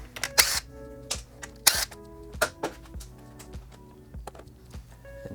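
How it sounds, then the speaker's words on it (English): A 10mm socket ratchet works nuts off the rear fender of a 2022 Yamaha XSR 900, giving a string of close metallic clicks and taps with uneven spacing and a few sharper knocks. "Use a 10mm socket on these."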